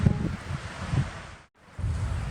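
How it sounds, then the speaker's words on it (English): Strong gusty wind buffets the microphone with a low rumble, briefly dropping out before roaring back, over the open water of The Loch, a lake in Rocky Mountain National Park. "The loch is always windy."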